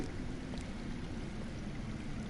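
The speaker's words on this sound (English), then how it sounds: "I hear water. From underground." Underground water flows in a Game of Thrones video game as a steady, dense rushing and burbling wash, continuous and fairly faint, with no talking.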